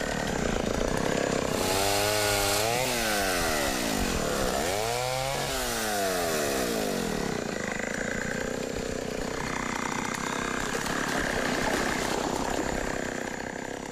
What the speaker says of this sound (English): they keep the chainsaw close at hand